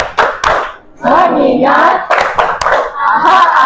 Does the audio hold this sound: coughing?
no